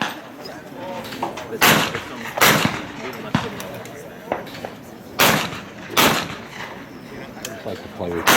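Repeated 28 gauge shotgun blasts at an NSSA World championship shoot-off, several sharp reports fired in irregular succession with crisp outdoor echoes, while people talk in the background between shots.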